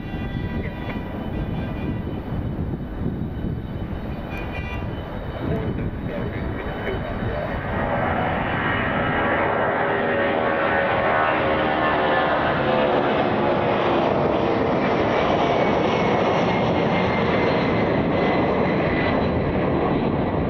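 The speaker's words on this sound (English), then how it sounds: "757 heading to Atlanta." Delta Airlines Boeing 757 jet departing for Atlanta, a loud, steady roar of engines that builds and holds with a rising whine, heard close by with no talk over it.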